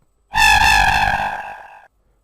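Cat meow run through a robot voice effect in the Scratch sound editor: one loud, buzzy, metallic synthetic meow with strong even harmonics, held about a second and a half and fading before cutting off, alone.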